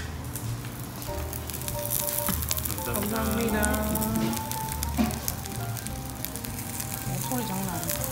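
Kimchi stew sizzles and bubbles hard in a hot pot at a restaurant table, a loud, steady frying crackle with people talking over it in the background.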